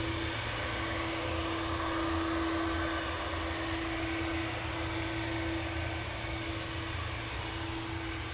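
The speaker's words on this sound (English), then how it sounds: "It's off to Bridgetown, Airbus A330 EIDY" Airbus A330 jet airliner departing for Bridgetown, a continuous distant jet roar with a steady whining tone running through it, unbroken and alone without voices.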